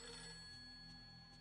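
A telephone rings inside the video game Fatal Frame III: The Tormented, a faint trilling bell heard over a steady low background hum, with no voices.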